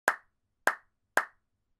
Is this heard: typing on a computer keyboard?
no